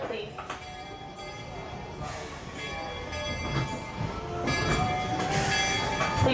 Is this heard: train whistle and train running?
yes